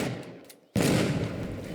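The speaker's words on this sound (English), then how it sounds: "It can explode." A sudden explosion in the destruction game Teardown, a sharp loud blast after a brief quiet that rolls on into a rumbling, crackling tail.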